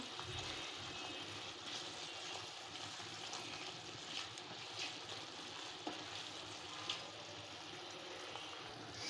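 A sugared pickle mixture sizzles softly in a pan as it is stirred, a faint, continuous frying hiss with small crackles throughout.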